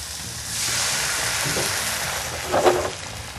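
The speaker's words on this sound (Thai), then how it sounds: "หอมพริกไทยหอมรากผักชีแล้วครับ เราก็จะเติมน้ำแล้วครับ" Water poured into a hot pan holding pepper and coriander root sets off a loud, broad rushing hiss that swells briefly near the end, with no one speaking.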